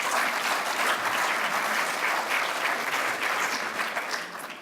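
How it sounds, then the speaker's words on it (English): An audience at a food industry awards evening claps in a full, sustained round of applause, many hands blending into a loud continuous patter that eases off slightly near the end. "give yourselves a big round of applause"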